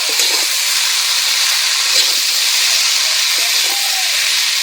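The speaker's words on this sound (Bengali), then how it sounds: "এরপরে দিয়ে দেবো শাক এবার নাড়াচাড়া করে নেব" Red amaranth greens fry in a hot pan while being stirred, giving a loud, steady hiss of sizzling that holds throughout, with faint scrapes now and then.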